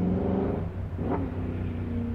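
A car engine at an autocross event drones steadily, then its pitch drops and climbs again as it shifts down, a moderately loud rumble with no voices.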